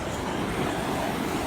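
Steady roar of huge ocean waves breaking on the shore, a continuous wash of surf mixed with wind noise, moderately loud with no voices.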